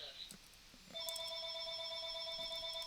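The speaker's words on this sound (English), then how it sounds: "I'm sorry about the ringing in the background" A telephone rings in the background at a steady pitch, starting about a second in and sustaining to the end, moderately loud over a quiet room.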